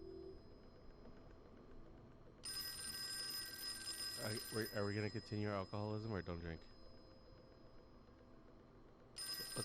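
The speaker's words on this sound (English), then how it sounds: "Old timey phone." An old-fashioned telephone rings in a bell-like burst in the Call of Cthulhu video game, joined by a brief stretch of talk, then a second ring starts at the end.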